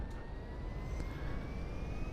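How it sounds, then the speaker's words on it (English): Aircraft engines running in the video game GTA V: a steady, distant jet drone with a faint high whine held evenly throughout, no other sounds over it. "we'll start the engines back up again"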